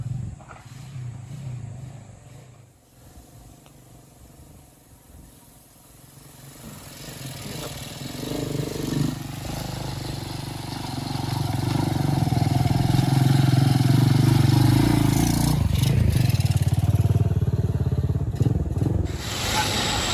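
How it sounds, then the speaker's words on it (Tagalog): A motorcycle climbs a rough mountain road on the Mt. Balagbag loop in Rizal, its engine rising from faint to a loud, straining drone as it approaches and labors nearby. "Tingnan nga natin tong parating na motor"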